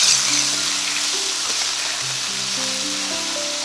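Beef browning in a hot pan for a quick stir fry gives a steady, loud, close sizzle that hisses on without pause, with faint tonal music underneath.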